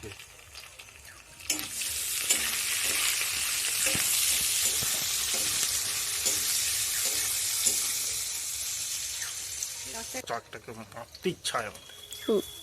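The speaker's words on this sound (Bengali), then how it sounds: "পেঁয়াজ দিচ্ছি তেলের উপরে আলুর উপরে" Onions tipped into hot oil over potatoes and stirred, a loud, close sizzle that swells after a clatter and stays steady, then fades to scraping and clinks as a voice talks over it.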